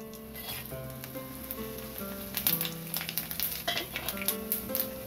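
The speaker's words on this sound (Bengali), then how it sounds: "গোটা জিরে, দারচিনি, ছোট এলাচ, লবঙ্গ, একটা বড় এলাচ, দুটো শুকনো লঙ্কা ফোড়নে দিলাম" Whole cumin, cinnamon, green and black cardamom, cloves and two dried red chillies sizzle and crackle in hot oil, a close, steady fry with sharper spitting pops toward the end.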